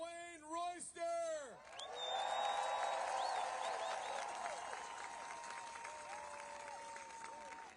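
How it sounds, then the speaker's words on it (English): At an outdoor protest rally at the Lincoln Memorial in Washington, DC, an amplified voice is briefly heard, then a large crowd breaks into broad applause with cheering and whoops that swell quickly and hold steadily before slowly easing. "please give a warm round of applause for Bishop Dwayne Royster"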